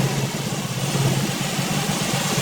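A motorcycle engine converted from fuel injection to a carburetor idles steadily, a loud continuous close-up rumble with an even, unbroken tone throughout and no voices.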